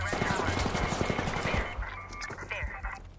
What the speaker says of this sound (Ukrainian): Да, стріляють.